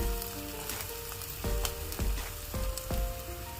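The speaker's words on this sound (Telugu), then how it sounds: "ఉల్లిపాయ ముక్కలు వీటిని కూడా దీంట్లో వేసేసుకోవాలి" Sliced onions frying in a hot pan for a vegetable chapati roll, a steady crackling sizzle throughout with a few louder spits and stirs, no talking.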